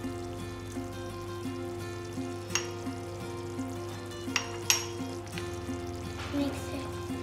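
Karela chicken with green peppers is stirred in a pan, a soft low sizzle under a steady hum, punctuated by a few sharp spoon clinks and scrapes.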